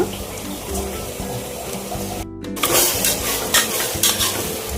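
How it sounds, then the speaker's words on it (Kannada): Tomatoes with salt and turmeric are stirred in a pan over a constant sizzling hiss, with a brief pause partway through followed by louder scraping and mixing strokes. "ಚೆನ್ನಾಗಿ ಮಿಕ್ಸ್ ಮಾಡಿ"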